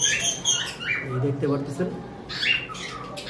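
Blue and turquoise-blue conure parrots let out shrill, harsh squawks in two short bursts, near and loud, mixed with someone talking in Bengali.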